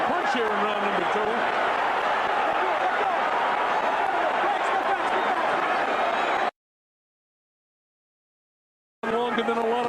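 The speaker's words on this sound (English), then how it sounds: "You hear the crowd." Boxing arena crowd at the Tyson vs Holyfield fight roaring in a thick, continuous wall of noise with speech mixed in, cutting to total silence partway before the din briefly returns.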